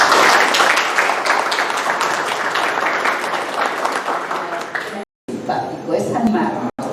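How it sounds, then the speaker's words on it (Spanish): An audience at a Spanish poetry reading applauds loudly and steadily for several seconds, dense clapping that fades briefly before a few scattered claps and a voice. "para quien pido un fuerte aplauso"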